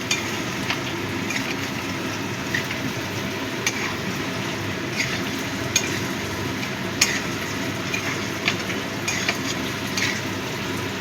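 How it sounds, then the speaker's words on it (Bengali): Grated coconut frying in a pan for prawn malai curry, a steady soft sizzle with faint scattered stirring clicks throughout. "এবার এই নারকেল কোড়াটাও ভালো করে ভেজে নেব, একটু লাল লাল করে।"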